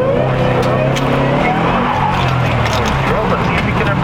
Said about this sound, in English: Out there right now is Adam in the Shelby GT